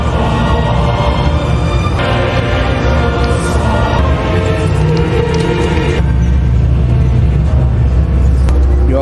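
A DAMRI bus drives along with a steady, loud engine rumble and road noise that holds constant throughout, with no talking.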